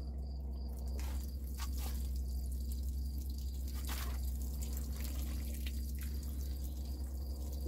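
Water poured into 10-20 seed trays, a quiet continuous trickle and soft dripping with a few brief splashes over a steady low hum.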